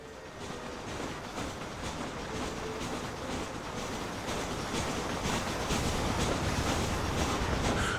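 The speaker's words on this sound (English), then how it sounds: "I hear the train." A train rumbles past in Red Dead Redemption with a continuous clattering roar that swells slightly louder as it goes on, with no voices over it.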